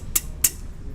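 Two crisp vocal percussion T hi-hat hits made with the mouth imitate a hi-hat, short airy hisses spaced about a third of a second apart, close and fairly quiet with nothing else around them.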